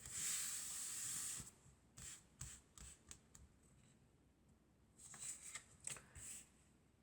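Tarot cards being shuffled with a long riffling hiss, followed by soft, scattered slides and taps as individual cards are picked out, close and quiet with no talking.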